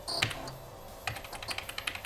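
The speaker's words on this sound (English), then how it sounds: "Can you keep it down with the clicking, Dad?" Computer keyboard typing from a dad working at a glowing screen: quick bursts of light clicks, a pause, then a steadier run of keystrokes, close and fairly quiet with no talking.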